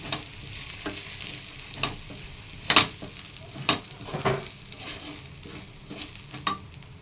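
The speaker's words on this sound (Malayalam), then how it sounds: "പൊടികളുടെ പച്ചമണം മാറുന്നിടം വരെ നന്നായിട്ടൊന്ന് ഇളക്കി കൊടുക്കാം" Chicken masala and ground spices stirred into a frying coconut milk chicken curry, a low sizzle under repeated spoon scrapes and light clinks against the pan, near and alone.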